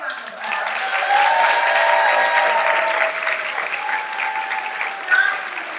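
A large crowd applauds the contestants at the Ms. Wheelchair America 2017 speech night, a loud, steady round of clapping with faint voices underneath, swelling briefly near the end.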